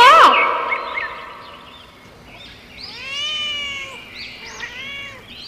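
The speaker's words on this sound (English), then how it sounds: "C for cat." A cat meows several times, drawn-out rising and falling cries, fairly close and clear with a brief sharp sound at the start.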